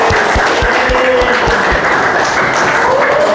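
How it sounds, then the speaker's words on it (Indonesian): An audience claps for Ardan in steady, dense applause throughout, with a few sharp claps standing out near the start. "silakan kasih aplaus dulu buat Ardan"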